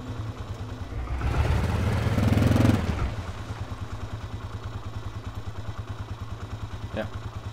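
A motorcycle engine in the survival video game DayZ revs up for about two seconds, then drops to a steady low rumbling idle.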